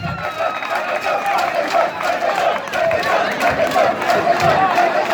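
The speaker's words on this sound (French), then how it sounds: "Acclamez très fort pour vous-même" Audience at a French comedy show cheering loudly, a dense continuous roar of crowd voices and shouts, close and sustained throughout.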